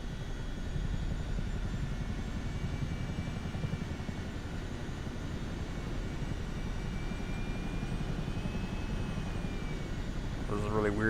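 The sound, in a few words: Chinook helicopter flying in Microsoft Flight Simulator 2024 video game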